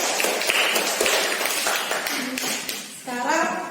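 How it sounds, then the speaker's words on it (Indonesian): Applause breaks out for the first group in a sixth-grade civics class, a steady wash of claps from many hands mixed with overlapping voices in a classroom. "Tepuk tangan untuk kelompok 1."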